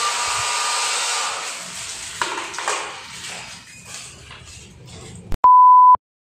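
A hotel room hair dryer in Taiwan blows with a steady airy whoosh that fades as it winds down, then a loud electronic beep sounds for about half a second.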